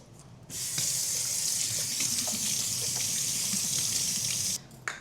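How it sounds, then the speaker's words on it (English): Hands are washed under a running kitchen tap, a steady close hiss of flowing water that starts abruptly, runs evenly for about four seconds, then shuts off with a small splash. "I'm gonna go wash my hands"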